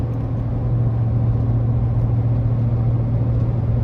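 Steady low road rumble and tire drone from a 2020 Ford F-150 XLT pickup with a 5.0 engine cruising on the highway, continuous and even with no voices.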